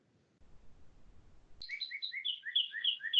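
Small birds chirp close by in a quick string of bright, high tweets after a stretch of faint low background noise.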